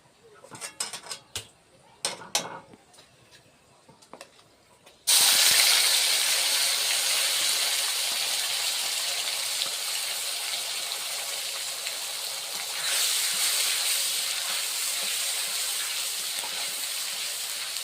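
After some light clinks and utensil sounds, onion paste hits a hot pan and sets off a sudden loud, sustained sizzle and hiss that stays close and steady, swelling briefly partway through.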